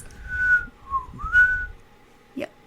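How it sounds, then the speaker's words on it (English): A person whistles a short tune of a few clear, sliding notes, close and alone, ending with a brief soft knock. "Not the song, but I can whistle."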